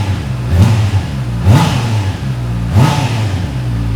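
A 2019 Honda CB650R motorcycle engine revs loudly up close, three sharp throttle blips rising in pitch over a steady idle, with a high, raspy exhaust note.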